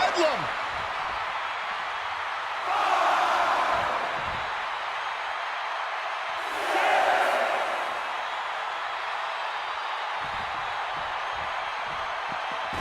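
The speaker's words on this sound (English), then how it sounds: "Look at this crowd. It's insanity in here. Bedlam." Wrestling arena crowd at a John Cena vs Brock Lesnar match roaring in a steady wash, swelling loudly twice before settling back to a constant murmur.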